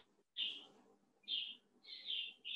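A pet bird in an aviary gives several short high chirps, three separate bursts spaced about a second apart, moderately close over a faint background murmur.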